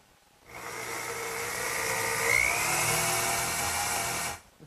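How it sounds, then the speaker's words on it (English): A 1/4 inch brad point bit boring dowel holes in wood, an electric drill whirring up to speed, holding a steady high whine that rises slightly mid-cut, then stopping; close and moderately loud, no talking. "I have to drill the holes. And I'll use a brad point bit"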